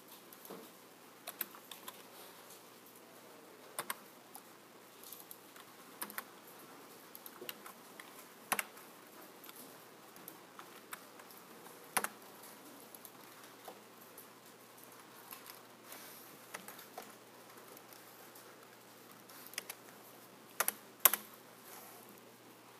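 Typing on a computer keyboard fills a quiet room, with sparse, irregular key clicks and occasional louder taps scattered throughout, fairly close and faint, with no talking.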